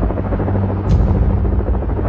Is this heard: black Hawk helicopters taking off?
yes